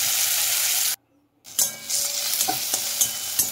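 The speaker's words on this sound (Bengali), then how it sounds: "পেঁয়াজটা বাদামি করে ভেজে নিচ্ছি।" Chopped onion frying in oil with a little sugar and black cumin, browning in a pan: a steady loud sizzle that cuts out briefly, then resumes with light stirring clicks.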